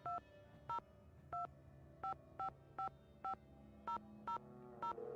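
A phone in a Nancy Drew game is dialed, with eleven short, evenly spaced DTMF keypad tones beeping in a steady rhythm over a low, quiet background hum.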